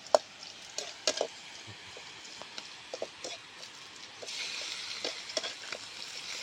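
Liver frying in a pan for gravy gives a steady, quiet sizzle, broken by scattered clicks and scrapes of stirring, with the sizzle swelling a little louder near the end.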